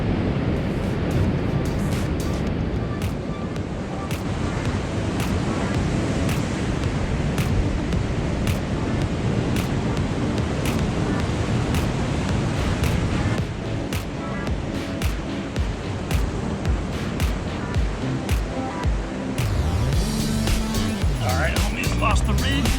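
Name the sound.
ocean waves at the shore while fishing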